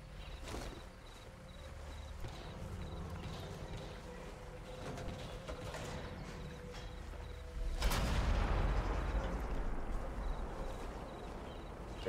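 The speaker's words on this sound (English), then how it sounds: "Gun's just gonna get louder and louder the closer we get to it." A big gun fires in the video game Sniper Elite 4: one heavy, fairly near boom late on, followed by a long rolling rumble, over a steady insect-like chirping ambience.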